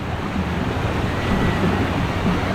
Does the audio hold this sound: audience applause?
no